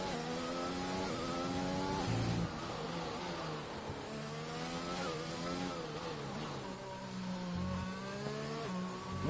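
Race car engines in a PS4 racing video game during qualifying, a steady loud roar of several cars with rising and falling revs and gear changes throughout, no talking.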